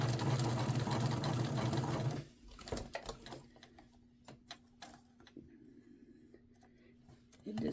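A home sewing machine stitches a fabric headband, running loud and steady for about two seconds, then stopping; afterwards come quieter stop-start stitches and a few clicks as it struggles to sew over a black elastic-like strip.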